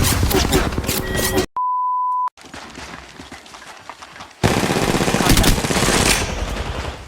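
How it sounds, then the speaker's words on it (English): Video game gunfire in loud dense bursts of rapid automatic shots, broken by a steady electronic beep and a quieter stretch of distant crackling fire before another heavy close burst. "I'm taking shots"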